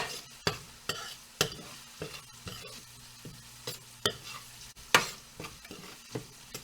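Spices are stirred in a pan on the stove for a flank steak dish, with a series of irregular, close scraping knocks over a low background hum and no voices.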